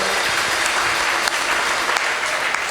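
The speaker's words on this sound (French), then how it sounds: "Clap your hand for the Lord." A church congregation claps and applauds loudly and continuously, a dense wash of many hands close around the listener.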